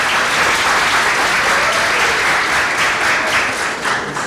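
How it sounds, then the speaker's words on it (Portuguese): Sustained audience applause at a graduation ceremony, a dense, steady clapping from a large crowd that fills the whole stretch without pause. "a quem pedimos uma salva de palmas e agradecemos a presença"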